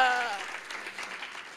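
A church congregation applauds steadily after the preacher calls for it, a broad wash of clapping that fades slightly over a second and a half, with a brief voice at the very start.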